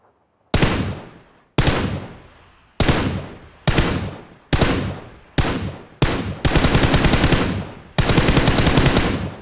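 Rapid automatic gunfire in the PUBG Mobile battle royale game comes in loud, sharp bursts, several short volleys separated by brief pauses, then a longer sustained stream of shots, with no talk.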